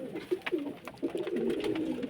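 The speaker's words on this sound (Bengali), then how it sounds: "এই সব আমার পায়রা" Domestic pigeons kept at home coo in a low, throaty series of soft rolling calls, fairly close and continuous, with several overlapping birds and no talk.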